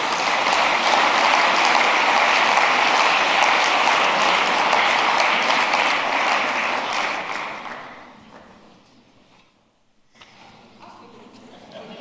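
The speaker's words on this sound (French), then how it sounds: "Je vous demande de l'applaudir" Warm audience applause for a speaker at a French formal gathering, steady and full for several seconds before fading out, followed by quiet room noise.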